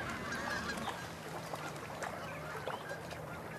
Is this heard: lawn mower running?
no